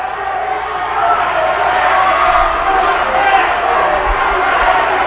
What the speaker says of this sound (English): Crowd is incensed.